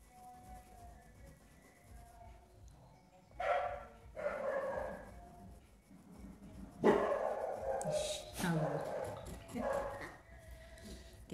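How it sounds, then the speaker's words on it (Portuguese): A neighbour's dog barks in bursts from somewhere nearby, loud and repeated, while someone talks indoors as she paints a cloth. "Quem tá latindo não é ela, tá? É o da vizinha."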